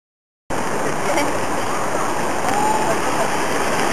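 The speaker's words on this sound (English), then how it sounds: "Rainy day in Paris, Samantha?" Steady, loud rain hisses continuously outdoors in Paris, starting abruptly after a half-second of silence, with faint background sounds beneath the downpour.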